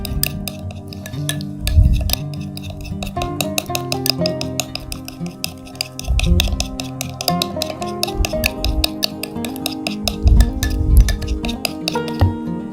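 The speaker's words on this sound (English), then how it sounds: "mix well the ingredients" Egg face mask ingredients stirred in a bowl, with rapid repeated clinks and scrapes of a spoon against the dish, loud and close, plus occasional low thumps.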